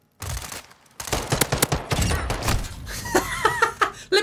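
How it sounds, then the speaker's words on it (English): Gunfire in the video game Call of Duty MW2, a rapid burst of close, loud shots mixed with impacts and game effects, with a player talking briefly amid the firing. "Let me shoot this guy's body, please."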